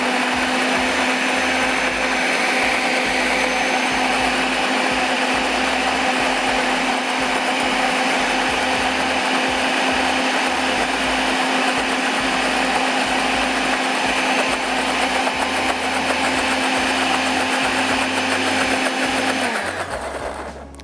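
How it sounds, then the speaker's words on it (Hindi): A kitchen blender whirring loudly and steadily while blending a sauce for a rasgulla dessert recipe, running for about twenty seconds before abruptly switching off. "अच्छे से ब्लेंड कर लें"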